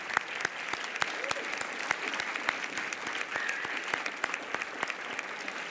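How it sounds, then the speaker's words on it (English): Conference audience applauding classroom teachers, a steady round of clapping with sharp individual claps popping out above the dense wash, fairly even throughout with faint crowd murmur underneath. "Let's give them a huge round of applause."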